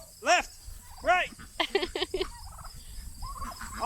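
Farm turkeys gobbling in two clear, bubbling calls, followed by rapid clucking and chattering from the flock, close by, over a faint insect-like outdoor background.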